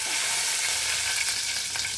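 Mustard seeds, cumin and curry leaves crackle in hot oil for kanda poha tempering, a loud, close, continuous hissing sizzle with faint popping throughout.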